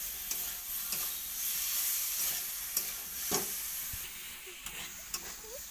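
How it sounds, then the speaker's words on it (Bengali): Vegetables are sautéed and stirred in a pan, giving a continuous hissing sizzle with occasional scraping and clinking stirs, close and steady throughout. "সবজিগুলো তো তুলে দিচ্ছি, দিয়ে কষে নেবো।"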